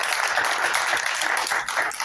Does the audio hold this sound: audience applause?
yes